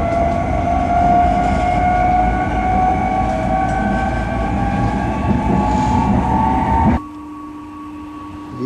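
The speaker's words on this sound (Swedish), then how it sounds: "Idag ska vi ut och åka spårvagn" A Berlin tram rumbles steadily along the rails from inside the car, with a whining motor tone that rises, then the noise drops suddenly as it slows.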